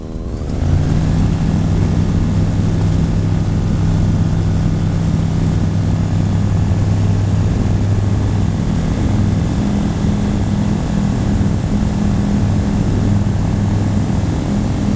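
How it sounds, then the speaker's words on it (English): Propeller aircraft taking off from an airfield in Sweden, a loud steady engine and propeller drone heard from inside the cabin, constant throughout with a low hum and broad roar, no talk. "Just taken off from Carina in Sweden."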